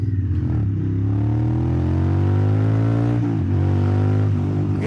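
The exhaust of a Harley-Davidson Sportster S motorcycle revs loud and close: a deep, throaty roar climbs and dips through several throttle blips, dominating the whole stretch with no talking.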